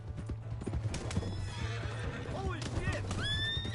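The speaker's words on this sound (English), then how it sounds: "Hey, that's my horse!" A horse in Red Dead Redemption 2 clip-clops steadily at close range and lets out a loud whinny, while someone shouts an excited exclamation over the hooves.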